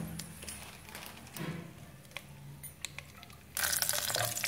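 Water splashes into a hot pan on a home stove while cooking millet, with light trickles and stirring clatter, then a sudden loud hissing sizzle near the end as it hits the heat.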